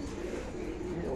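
An old pigeon gives a soft, low coo, faint and brief, with a little background noise.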